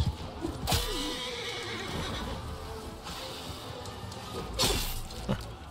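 A horse in Mount & Blade II: Bannerlord gives two loud, shrill neighs, one near the start and another near the end, over a background of clattering battle noise.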